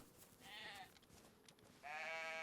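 A sheep in the survival video game DayZ bleats twice, a faint, wavering nasal call followed after a pause by a longer, slightly louder bleat, over quiet in-game ambience with no talk.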